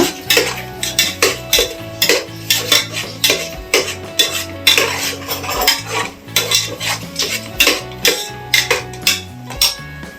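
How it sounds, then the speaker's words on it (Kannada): Ground masala paste frying in a pan for mushroom biryani, stirred with steady, rhythmic scrapes and clinks of a spoon against the pan, loud and close over a low sizzle. "ಇದನ್ನ ಚೆನ್ನಾಗಿ ಹಸಿ ವಾಸನೆ ಹೋಗೋವರೆಗೂ ಫ್ರೈ ಮಾಡ್ಕೊಳ್ಳೋಣ"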